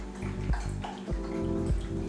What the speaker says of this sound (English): you can pour over just some cold water right over top,